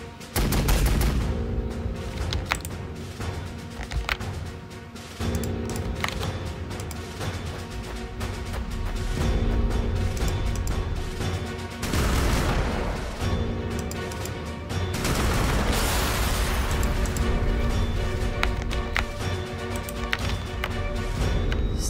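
Continuous gunfire and explosions from the Sanctus Reach video game, dense rattling volleys and loud bursts layered over a steady rumbling battle bed.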